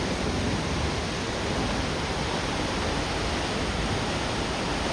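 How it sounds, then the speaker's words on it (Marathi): Dam water plunges straight down like an artificial waterfall, a steady broadband roar that stays loud and unbroken throughout, with no talking over it. "ते बघा ना डायरेक्ट खाली आदळतं, त्याचा आवाज येतो बघा"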